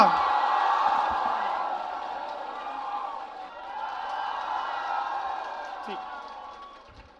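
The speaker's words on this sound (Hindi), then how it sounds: "जोरदार तालियों से स्वागत करिए विकास दिव्य कीर्ति सर का" Audience cheering and clapping welcoming Vikas Divyakirti on stage at Sahitya Aajtak 2023, a dense crowd roar with whoops that swells, dips and fades out near the end.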